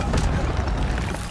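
An Incendio fire spell cast in a Hogwarts video game, a short dense whooshing burst of flame, loud and close, with a rumbling tail.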